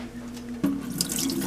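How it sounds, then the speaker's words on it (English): Liquid whey pours and splashes out of a pot of cheddar cheese curds into a sink, a brief close gush of water after a moment of quiet. "So we're going to drain the whey out, and then we're going to flip the slices"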